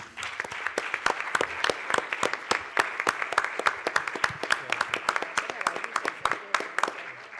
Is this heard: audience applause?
yes